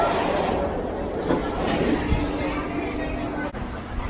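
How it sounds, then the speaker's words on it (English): Roller coaster train rolling through the station at the Silver Dollar City theme park, a steady rumbling wheel roar with faint rail squeal, with crowd noise in the background. "we are unloading these trains in under 30 seconds."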